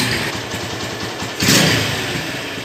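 A 2011 Honda Tiger Revo SE motorcycle engine running close by with a steady mid-pitched drone, then a sudden louder rev about halfway through that slowly settles back, with no speech.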